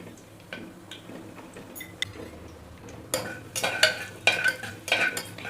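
Whole spices land in hot oil in a pressure cooker, starting with faint scattered clinks and then building into louder sizzling, crackling bursts near the end, with no voices.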